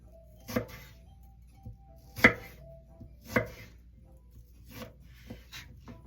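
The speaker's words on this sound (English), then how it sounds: "now I'm just going to take my knife and I'm going to cut them this way so that they turn into strips or sticks." A knife cuts vegetables into strips on a cutting board, giving several distinct, close knocks at uneven intervals. Quiet pauses separate the strokes and nobody speaks.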